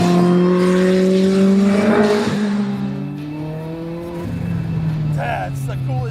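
A fast Lotus race car engine revs loudly and close, its pitch rising and falling as it accelerates, with people talking over the roar.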